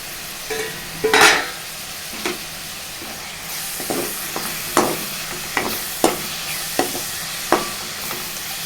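Spoon scraping and stirring through a spinach, green pea and spring onion curry in a pan, a run of distinct clinks and scrapes over a soft sizzle, with no one speaking.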